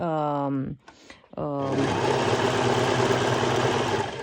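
A sewing machine stitches fabric for ruched Daisy shorts, a steady whirring motor run close by. Someone speaks briefly before it starts.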